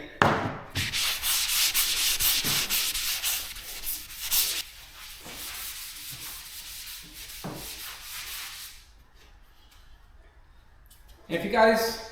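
Steady abrasive sanding strokes rub back and forth up close over a guide-coated 1967 Chevrolet Nova car body, with a few pauses, then a brief scrape near the end; no one speaks.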